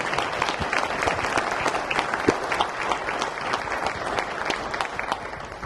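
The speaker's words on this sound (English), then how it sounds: "Round of applause for our wonderful panelists." An audience applauds panelists after a discussion on birds and climate change, brisk continuous clapping from a moderate crowd with a few sharper individual claps standing out near the front, no talking over it.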